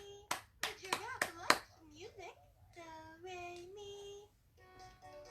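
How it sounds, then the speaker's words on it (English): A young child claps hands five times in a quick, sharp series close by, followed by a voice and an adult talking. "Clap your hands."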